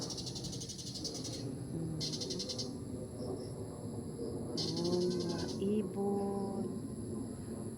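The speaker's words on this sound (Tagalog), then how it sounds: "Sari-saring huni ng hayop ang maririnig mo." Scattered bird and animal calls in the Philippine countryside, short chirps and whistled notes over a steady insect-like hiss and low ambient noise, fairly faint and distant with a few calls standing out near the end.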